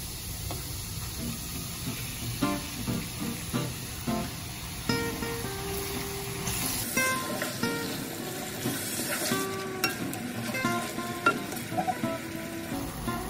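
Sweet chili sauce poured into a hot pan while cooking sweet chili shrimp, with a steady sizzle and a sudden louder hissing burst as the sauce hits, followed by repeated stirring scrapes, close and continuous.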